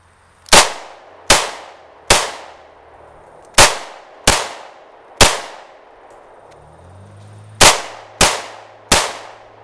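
Pistol shots in a Mozambique drill, two to the chest and one to the head, ring out as nine sharp, loud, close reports. They fall in groups of three with brief gaps between the shots and a longer pause between sets.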